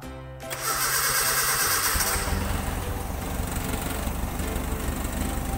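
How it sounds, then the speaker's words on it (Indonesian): An engine cranked with the ignition key and slightly open throttle, a brief starter whir then catching into a loud, steady running drone that holds close and alone. "kita putar kunci kontak ke arah start."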